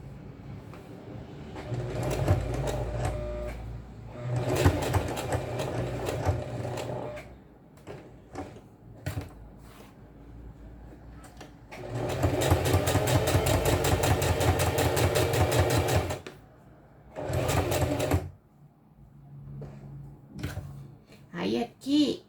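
Domestic sewing machine stitching a straight topstitch seam on fabric: several bursts of rapid, even mechanical whirring and clatter with pauses between them, close and moderately loud, one long run in the middle, with someone talking in the gaps.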